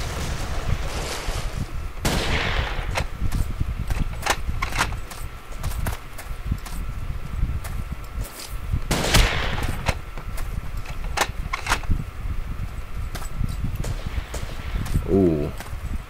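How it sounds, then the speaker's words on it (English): Gunfire and grenade blasts in the video game Ace of Spades: sharp shots and a few heavier booms crackle steadily across the battle while a player talks over them. "Grenades flying all over the place."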